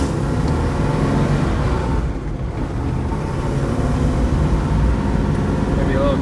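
A 1970 Chevrolet Nova SS pulls away with a steady, loud engine drone that holds throughout, through a school zone.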